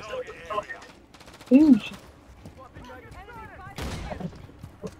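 Rapid bursts of gunfire from Call of Duty Modern Warfare 3 multiplayer, with short volleys and scattered shots and a loud burst partway through, heard under a man's speech.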